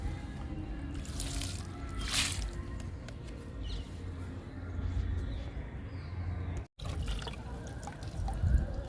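Liquid fertilizer poured from a container onto potted chilli plants, a soft steady trickle and splash with a few brighter bursts, fairly faint and close.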